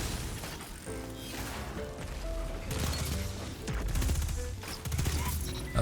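A tier 5 gun fires in the video game Destiny, loud rapid shots and mechanical clatter layered over dense game effects and music, with bursts that swell and drop across the scene.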